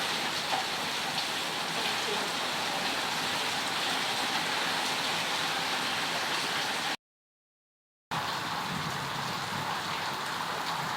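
Steady rain falls outdoors on a rainy day in Thailand, a dense, even hiss that continues unbroken except for a one-second cut of silence near the end, with no voices.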